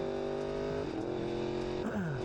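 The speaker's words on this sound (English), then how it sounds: "the engine. The sound is amazing. You can tell it apart from all the other bikes." A Yamaha R1 sport motorcycle engine revs up close with a steady, high-pitched tone, rising and falling through short pitch sweeps over a couple of seconds, with no voices.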